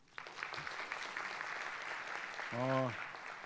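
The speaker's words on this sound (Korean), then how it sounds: "앞전에 말씀 주신 분들한테 다시 한번 감사의 박수를 함께 쳐주셨으면 어떨까 합니다" Conference audience claps in thanks for earlier speakers, a moderate, fairly distant patter of applause with a voice briefly sounding over it.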